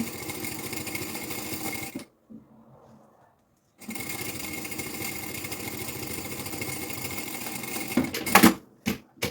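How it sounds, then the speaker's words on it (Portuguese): A sewing machine hums close by in a long, steady run while stitching the lining of a preschool backpack along the edge over an existing seam, pauses for under two seconds, then runs again and ends with a few short bursts. "Vamos passar aqui uma costura para segurar aqui o forro, à beirinha, por cima da costura que já lá está."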